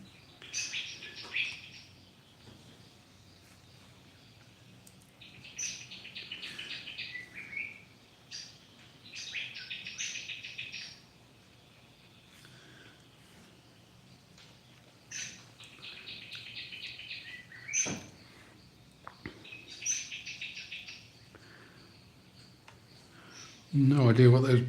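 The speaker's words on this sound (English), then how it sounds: "No idea what those birds are in the background." Bird calls in the background, repeated bursts of high chirping trills spaced every few seconds over a faint steady insect hum, with soft talk at the end.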